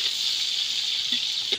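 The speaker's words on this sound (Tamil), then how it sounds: "வெங்காயம் நல்லா பொன்னிறமாக வர வரைக்கும் நல்லா வதக்கணும்" Onions sautéing in a pan for village-style chicken biryani, cooked outdoors in a forest setting, give off a steady, close hiss of frying that runs unbroken from start to finish.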